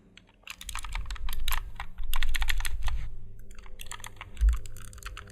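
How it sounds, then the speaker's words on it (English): Keys clatter in rapid bursts of typing on a small one-handed programmable keyboard nearby, pausing briefly between runs, with a low background rumble. "it is a keyboard for one hand"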